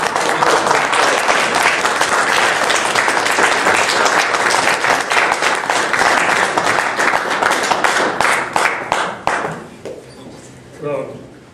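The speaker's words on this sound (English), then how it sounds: "I want to hear a big, big applause" A big crowd at a public talk in Calgary applauds warmly for several seconds, loud and dense, then the clapping breaks into scattered claps and fades as a voice begins speaking.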